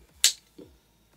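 An ASUSTOR NAS drive bay pushed into place without screws, giving a sharp plastic click followed by a softer second click, close and alone.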